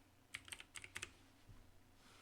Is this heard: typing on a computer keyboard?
yes